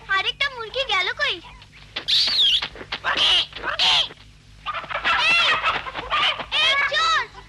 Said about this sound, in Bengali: আরেকটা মুরগি গেল কই?